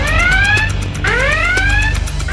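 An electronic alarm blares loudly and close by, sweeping upward in pitch twice in quick succession, like a car alarm or siren, with steady whooping tones and no talk.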